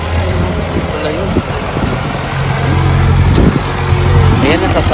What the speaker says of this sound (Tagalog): Ayan na sasakyan.